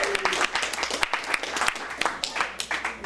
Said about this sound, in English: Please give the Green Door a big round of applause for letting us use the